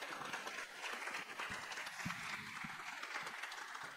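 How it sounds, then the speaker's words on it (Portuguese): Applause greeting a speaker called up to the panel table at a conference: faint, somewhat distant clapping with a few sharper individual claps standing out, steady for several seconds. "palmas para a Guilhermina"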